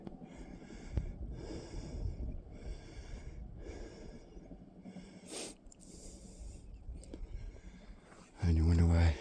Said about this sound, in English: you hear a lot of heavy breathing in my videos